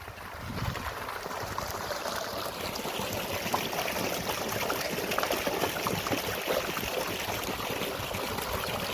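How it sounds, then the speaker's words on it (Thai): Water gushes strongly and steadily from a two-inch pipe fed by a solar-powered pump on a farm, a dense, continuous rushing splash held close and loud throughout with no talk. "นี่ครับไหลแรงครับเต็มท่อเลยครับ"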